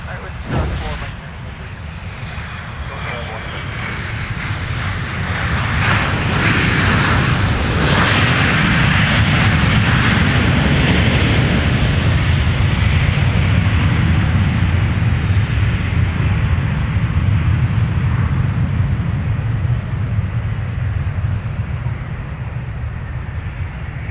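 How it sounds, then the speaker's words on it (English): Sun Country airliner landing at Minneapolis-St. Paul airport and turning off the runway, a loud broad jet roar swelling and holding steady for many seconds, heard from fairly close, with faint talk underneath. "that Sun Country arrival there that you were commenting about pulling off the runway quick came in from Phoenix"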